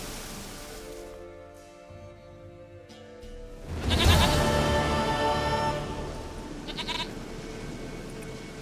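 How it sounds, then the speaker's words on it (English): A goat bleats in The Witcher 3 game world: a loud, drawn-out bleat rises around the middle and holds for a couple of seconds over a steady ambient game soundscape. "Goat of mine, dearest, sweetest goat."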